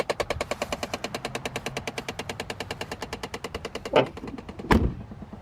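HVAC blend door actuators in a Chevrolet Impala 9C1 produce a rapid, evenly spaced train of loud knocking clicks, like a fast ratchet, running for about four seconds before two heavier thunks end it.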